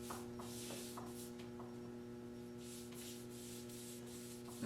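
Soft, steady rubbing strokes as finish coating is wiped across a sanded wooden farmhouse table top, quiet and close, with brief swishing bursts repeating throughout and no talk.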